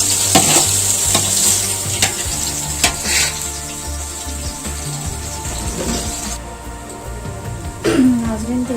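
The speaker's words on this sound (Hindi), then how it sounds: "ऑयल हमारा गर्म हो चुका है, तो मैं अब इसमें प्याज ऐड करूँगी।" Chopped onions sizzle and crackle in hot oil in a home kitchen pan while being stirred, a steady loud frying hiss throughout with someone speaking over it.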